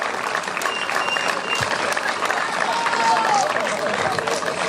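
Steady audience applause fills the prize ceremony of the 2023 Subida a Vilar de Barrio hill-climb rally as the second-place Simca 1000 driver is honoured. It continues evenly throughout, with crowd voices mixed in.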